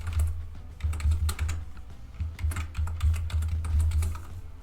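A password being typed on a computer keyboard: rapid, close clicking keystrokes in quick bursts, fairly loud over a low steady hum, with no talking.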